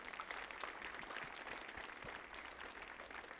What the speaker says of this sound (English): Let's give everyone at the Kennedy Center a round of applause.